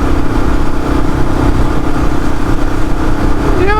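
A Royal Enfield Classic 500 Tribute Black Edition cruises at about 100 km/h on a freeway. Its single-cylinder engine drones loud and steady, with constant thumping and heavy wind rush.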